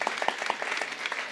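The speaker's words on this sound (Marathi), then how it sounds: "एकदा यांच्याकरता टाळ्या वाजवा जोरात." Audience at a live Marathi kirtan claps for the sound system operators, a steady patter of many hands with a few sharper individual claps standing out, moderately loud and continuous throughout.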